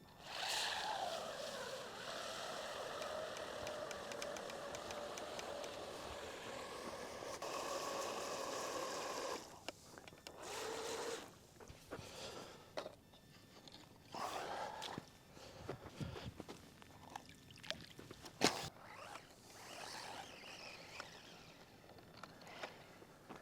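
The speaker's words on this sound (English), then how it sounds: "So we just buried the truck in the water in the mud pit." A DEERC 302e RC truck churns through water in a mud pit, its small electric motor whining and splashing steadily, then quieter bursts of sloshing and sputtering with scattered sharp knocks.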